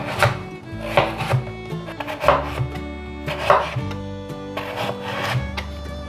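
A knife slices a peeled carrot on a cutting board in steady, crisp chops close by. Soft background music plays underneath.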